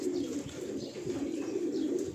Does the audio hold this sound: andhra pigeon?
yes